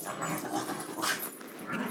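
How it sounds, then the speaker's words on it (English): Dogs wrestling growl and whimper in the background, with scuffling, low rumbling snarls rising and falling at moderate distance indoors. "Pay no attention to the dogs growling in the background."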